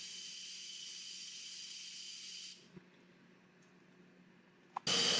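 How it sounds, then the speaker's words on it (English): Steam hisses steadily and loudly from the vent of a pressure cooker for a couple of seconds, then cuts off into quiet before a sharp burst of hissing returns at the end. "When we press this vent switch, it goes from seal to vent. The steam is going to start coming out of this back section here."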